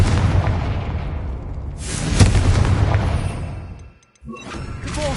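A Confringo blasting curse from Hogwarts Legacy going off as a series of loud, rumbling booms with a sharp burst around the middle, the roar fading into a brief silence before another blast rises.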